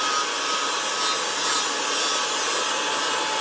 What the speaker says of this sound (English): Just enough to get down to the metal and get the paint off.